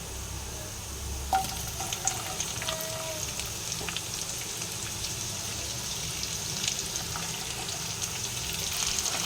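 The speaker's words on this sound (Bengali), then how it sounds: "এবারে আমি পেঁয়াজ কুচোগুলো দিয়ে দেবো" Chopped onions drop into hot oil with garlic for a Maharashtrian cluster bean (gawarphali) sabji, giving a steady, close, bright sizzle and crackle that holds through the whole stretch with no talking.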